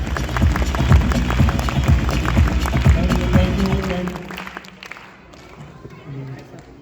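A crowd in a hall bursts into loud, dense clapping with some cheering and voices mixed in, holding strong for about four seconds before thinning out and fading.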